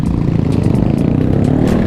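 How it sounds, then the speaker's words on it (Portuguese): Loud, throbbing Harley-Davidson motorcycle engines rumble nearby with a pulsing, uneven idle that fills the whole moment. "Essas Harley Davidson é um barulhão."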